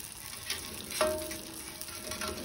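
Kue cucur batter frying in hot oil, a close steady sizzle with bubbling crackle and a brief scrape of stirring, no voices.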